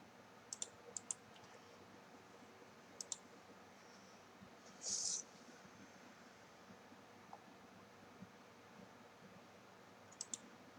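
A few sparse, faint clicks of keys typed on a computer keyboard for a batch file, set against a quiet room hiss, with one slightly longer burst near the middle.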